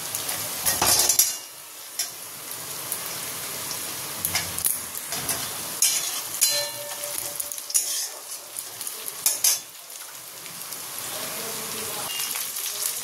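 Onion, chopped ginger-garlic and green chillies frying in a kadai give a steady sizzle with repeated scraping and stirring of a spoon against the pan, close and lively, with louder bursts as ingredients are moved.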